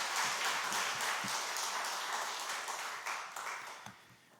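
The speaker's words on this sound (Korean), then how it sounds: "우리 교수님 나오실 때 박수로 환영하도록 하겠습니다." Church seminar audience applauding to welcome a professor, a loud, sustained wash of many hands clapping that tapers slightly toward the end.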